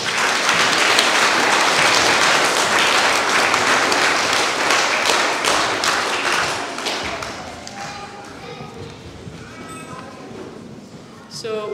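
Audience applause at a prize-giving, a dense wash of many hands clapping that gradually thins and fades toward the end, with scattered voices coming through as it dies down.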